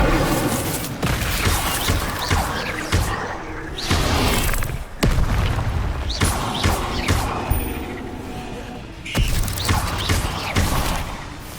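Incendio fire spells cast repeatedly in Hogwarts Legacy, loud whooshing bursts and booming impacts arriving in several clustered waves with brief gaps between them.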